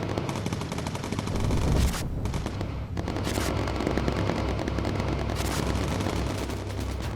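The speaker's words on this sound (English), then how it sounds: "Oh, we got some incoming flak." Dense, continuous anti-aircraft flak and rapid turret machine-gun fire in the bomber video game Bomber Crew roar loudly throughout, with overlapping bursts and booms forming an unbroken barrage.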